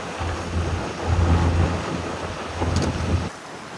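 Strong wind and choppy waves on San Francisco Bay seen from a small sailboat underway: steady blustery wind buffeting the microphone over a rushing wash of water, loud and close, with gusts rising and falling.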